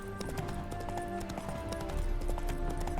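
Hooves of Roach, a horse in The Witcher 3 video game, clip-clopping at a steady walking pace under a low game ambience.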